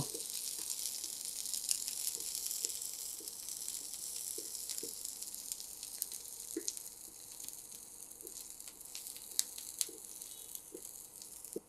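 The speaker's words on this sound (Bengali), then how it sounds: "বড় রসুনগুলো নরম করে ভেজে নিব" Quiet, steady sizzling of sliced garlic cloves frying in hot oil, with soft crackles and occasional small pops.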